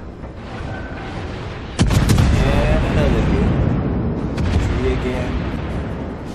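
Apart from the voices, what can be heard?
Cleveland cruiser guns firing rapidly, from the video game World of Warships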